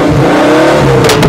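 A Pagani Huayra Roadster BC engine revs loud and close, with a sustained rising mechanical tone and a sharp burst near the end, and no talk.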